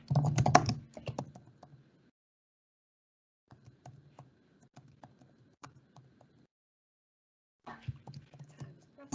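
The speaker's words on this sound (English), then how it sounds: "So we type in the college's address." Keys clatter on a computer keyboard as an address is entered, short soft bursts of typing separated by pauses, close by and quiet, with a brief voice at the start.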